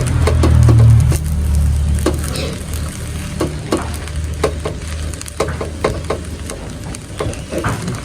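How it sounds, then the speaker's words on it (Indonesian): Plain rice and corn rice fry in a pan with a constant loud sizzle, and a spatula scrapes and stirs in repeated knocks throughout. "ini nasi biasa sama nasi jagung digoreng"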